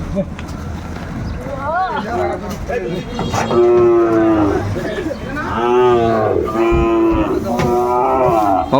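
Loud, drawn-out moos from Sahiwal bulls repeat close by as they are loaded onto a truck, while people talk over them in a busy outdoor setting.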